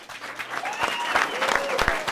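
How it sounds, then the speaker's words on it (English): A crowd of Eagles fans applauds steadily, dense clapping with a few louder individual claps standing out near the end. "Eagles fans applauding for Jerome"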